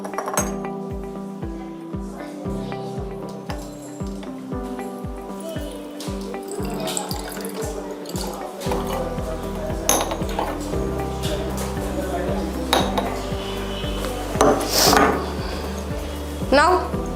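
Glass beakers clink and tap while potassium thiocyanate and ferric chloride are mixed, a steady series of light knocks and drips followed by softer clinks, with a voice talking over it.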